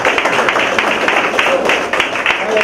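An audience at a church Bible-school class applauds a guest speaker, a steady patter of many hands clapping at close range with no pauses.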